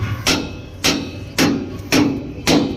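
A hammer struck during an air suspension repair while a broken switch is removed, giving five sharp, evenly spaced blows about half a second apart, close and clear, with no talking.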